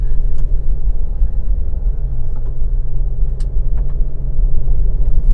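An Isuzu MU-X 2021 drives on a road at night, with a steady low engine and road rumble heard from inside the cabin and a few faint clicks over the continuous drone.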